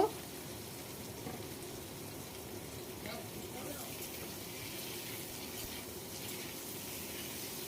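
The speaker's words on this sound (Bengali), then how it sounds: "এবার এইগুলোকে একটুখানি হালকা করে ভেজে নেব" Potatoes and green bananas frying lightly in spiced oil for a Bengali shingi fish curry, a steady soft sizzle and crackle running evenly throughout at close range, with no talk over it.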